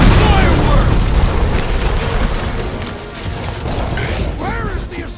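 Loud, continuous barrage of booms, bursts and crashing blasts from combat explosions in Marvel's Guardians of the Galaxy video game, with game music and character voices layered throughout.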